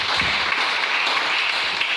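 A church congregation applauds the Lord, a steady wash of crowd clapping, dense and sustained throughout, with no speech on top.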